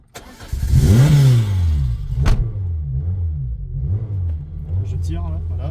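A Peugeot 205 engine cranks, catches and is revved hard at full throttle, rising and falling close by, then settling to a rough idle while people talk over it.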